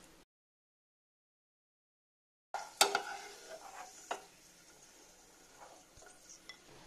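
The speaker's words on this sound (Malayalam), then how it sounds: "ചൂടായി കിടക്കുന്ന ഒരു പാനിലോട്ട് 2 ടേബിൾ സ്പൂൺ നെയ്യ് ഇട്ട് കൊടുക്കണം." Cashews roasting in ghee in a hot pan: after a stretch of silence, a spoon scrapes and clinks against the pan over a faint sizzle, with a few sharper knocks.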